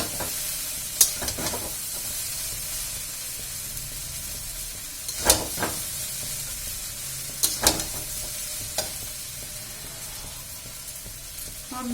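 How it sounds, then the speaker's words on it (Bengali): Chow mein noodles stirred in a hot pan at home, a soft continuous sizzle with occasional sharp scrapes and clinks of the utensil against the pan, close and moderately loud. "চাউ নাড়াটা সব থেকে কষ্টের কাজ"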